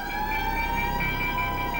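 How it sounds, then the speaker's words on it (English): Air raid sirens sounding across England at the approach of war in 1939, a steady sustained wailing tone with strong harmonics, loud and unbroken with no talk over it. "air raid sirens across England signaled the approach of war"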